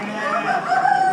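A chicken clucks and crows at a small animal auction, one short strained call lasting about a second, close and fairly loud, with a faint voice in the background.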